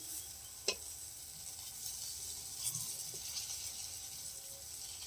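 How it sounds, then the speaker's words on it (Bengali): Khesari lentil fritters (bora) frying in oil give off a quiet, steady sizzle with a sharp crackle or two, heard close and with no talk. "অন্য পদ্ধতিতে একটা বড়া ভাজা করছে"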